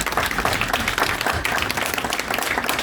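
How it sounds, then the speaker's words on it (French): Lively applause from a crowd at the L'Oréal and Emmaüs charity beauty space event in Paris's 18th arrondissement, a brisk, continuous patter of clapping hands heard up close throughout. "il mérite des applaudissements"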